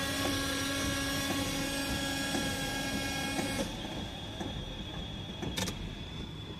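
Windshield wipers run on a 1997 Toyota LiteAce after its wiper switch was replaced, a steady mechanical whir with a motor hum that drops partway through, followed by a few brief knocks.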